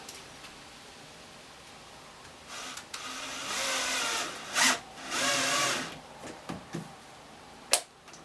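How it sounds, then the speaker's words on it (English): A power driver runs a half-inch screw to fasten trim, with two sustained whirring bursts and a short one between, followed by a few faint clicks and a sharp knock near the end. "we're going to be fastening this side using just an 1/2 inch screw and a screw"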